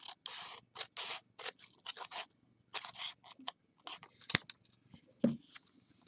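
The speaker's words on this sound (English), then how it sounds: "and take a pair of scissors" Scissors trim folded origami paper for a monster dragon claw finger puppet, a quick run of soft close snips and scrapes in irregular bursts, with a couple of sharper clicks near the end.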